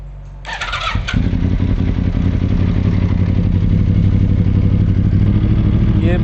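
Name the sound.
Yamaha R1 motorcycle engine starting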